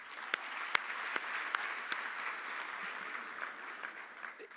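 Applause from guests at an appreciation dinner, a soft, distant wash of clapping with a few sharper individual claps standing out, continuing steadily.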